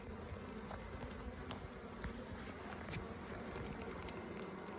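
Steady insect buzzing from many honey bees around a hive, a continuous low drone with faint higher whines, fairly quiet and without any voices.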